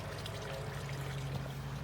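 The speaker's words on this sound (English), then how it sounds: "Bit of a waterfall thing going on." A small garden pond waterfall trickles steadily outdoors, a soft continuous splashing that stays fairly quiet throughout with no voices.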